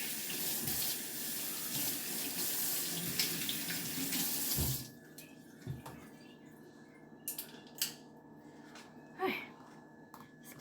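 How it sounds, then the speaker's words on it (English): A kitchen tap runs hard into a sink while dishes are washed, a loud steady rush for about five seconds. It then shuts off, leaving scattered clinks, drips and handling sounds. "let me wash this up."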